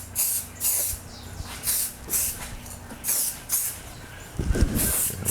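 A spray can hisses in short, regular bursts, close by, spraying paint onto a motorcycle part for a 1972 Honda CB450 cafe racer build. It starts at the bottom edge, and a duller knock follows near the end.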